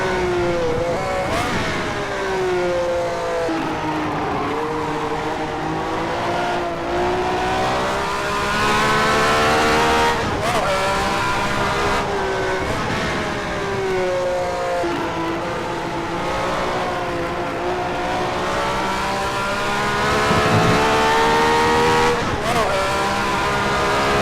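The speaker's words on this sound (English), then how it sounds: "Being a Ferrari, would have thought it would rev a lot higher." A Ferrari Formula 1 car engine revs and shifts gears again and again over the full stretch, rising and falling in steady waves with pitch sweeps at each change. It sounds loud and fairly close, with no voices over it.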